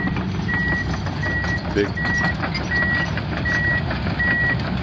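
Loud, steady reversing beeps repeat about every 0.7 seconds as heavy grading equipment is moved onto a construction site. They sit over a rumbling engine, with a brief voice partway through.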